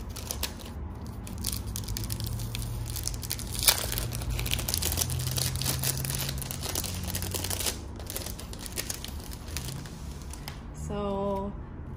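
Packages of small A7 cash envelopes being opened by hand, continuous close crinkling and tearing of wrapping at moderate loudness, with a short beeping tone near the end.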